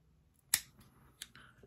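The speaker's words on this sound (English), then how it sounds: "You're going to clip it. Don't use your good scissors for this mop fly material." A quiet, crisp snip of scissors cutting fly-tying thread at a tying bench, one sharp clip followed by a smaller second snip in near silence.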